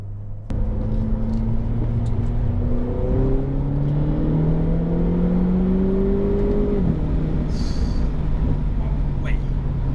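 A Renault Clio 4 RS Trophy (2017) engine downshifts, its tone stepping through gears with rising and falling revs heard from inside the car, steady and fairly loud throughout.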